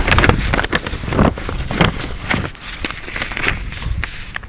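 Gusty outdoor wind buffets the microphone near a sidewalk, making loud, uneven bursts of rumble and rush that rise and fall throughout.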